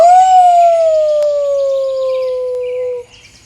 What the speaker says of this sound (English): The hunt starts with a howl.